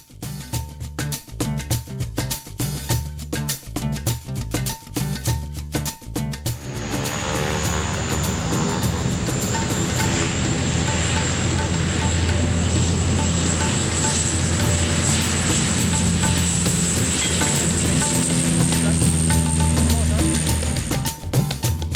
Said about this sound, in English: Next day, it was the flight to Pokhara.